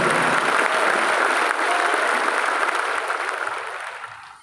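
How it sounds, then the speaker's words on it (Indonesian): Applause for the President at a Golkar party anniversary event, a large audience clapping loudly and steadily before fading out toward the end, with no speech over it. "Kita beri tepuk tangan buat Bapak Presiden."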